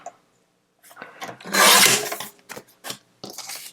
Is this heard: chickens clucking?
no